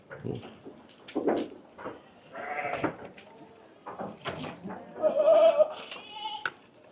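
Goats bleat again and again close by, a string of wavering calls with short pauses between them.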